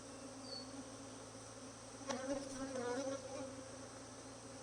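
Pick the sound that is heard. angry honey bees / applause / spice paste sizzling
angry honey bees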